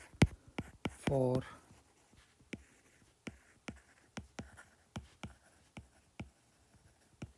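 Chalk or marker taps and scratches across a board while a physics problem on static equilibrium is worked out, about twenty sharp strokes in an irregular rhythm, with a brief spoken word near the start.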